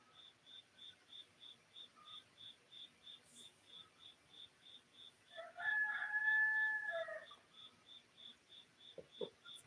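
A rooster crows once at mid-distance early on a Saturday morning, over a steady, evenly pulsing chorus of crickets that runs through the whole stretch, with a faint chicken cluck near the end.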